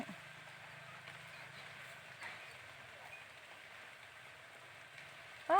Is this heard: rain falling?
yes